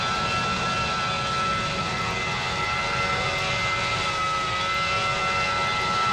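An airliner on an American Airlines flight from New York to Chicago roars with a steady, loud, unbroken jet engine drone that stays constant from start to finish.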